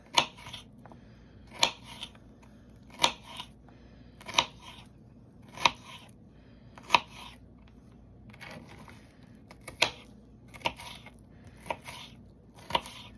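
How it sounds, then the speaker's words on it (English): An onion for a salad is chopped with a knife on a board. About a dozen crisp, close chops fall at an uneven pace, with light rustling between them and no talking. "Let's go ahead and cut this onion up."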